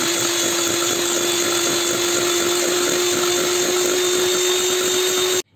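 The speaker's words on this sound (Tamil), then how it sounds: "அப்படி இல்லைன்னா நீங்கள் மிக்ஸி ஜாரில் அடிச்சுக்கோங்க." A mixer grinder whirs at high speed in one steady, loud drone with a sustained hum, cutting off abruptly at the end.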